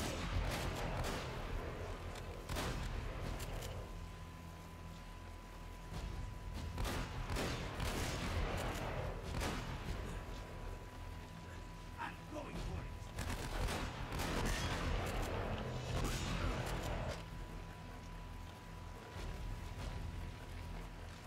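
Shotgun fire in Uncharted: Drake's Fortune, in a dense, loud firefight with repeated blasts and overlapping gunfire running the whole time, while someone speaks over it.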